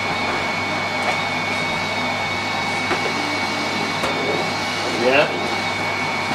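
A Miele Complete C3 vacuum cleaner runs steadily while sucking up biscuit crumbs, a constant close whooshing drone with faint crunchy rattles, and a voice speaks briefly over it.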